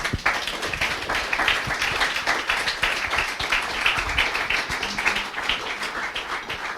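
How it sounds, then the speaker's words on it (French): An audience at a French lecture on a Marc Bloch biography applauds in a steady, dense patter of many hands that holds at an even level for the whole stretch, with no voices standing out. "On peut applaudir, oui."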